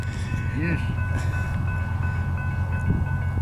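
An eastbound double-stack intermodal freight train rolls past on the BNSF Needles Subdivision with a loud, steady low rumble and a continuous tonal whine, while a person speaks faintly nearby.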